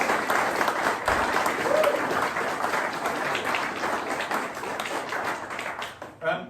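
Audience applause at a yacht club prize giving, a dense, steady wash of clapping from a crowd that carries on for several seconds and then tapers off near the end.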